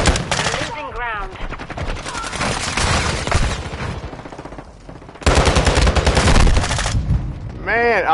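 Dense automatic and rifle gunfire from a Call of Duty Domination match on the Embassy map, loud and nearly continuous with a brief lull, then a renewed burst, with game voice callouts and player talk mixed in.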